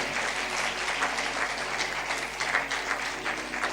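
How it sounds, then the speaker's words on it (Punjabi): Congregation clapping hard during a Punjabi Christian sermon, a sustained, even burst of many hands filling the room without any speech over it. "ਤਾਲੀ ਮਾਰੀਏ ਜ਼ੋਰ ਦੇ ਨਾਲ"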